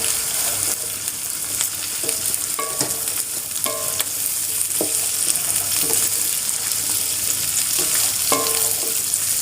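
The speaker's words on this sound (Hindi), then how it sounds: "साथ साथ ये प्याज भी फ्राई होता रहेगा और भिंडी भी फ्राई हो जाएगी।" Okra and onions frying in a pan for bhindi masala, a continuous loud hiss of sizzling oil with occasional scrapes and light clinks of a stirring spoon, close up and without speech.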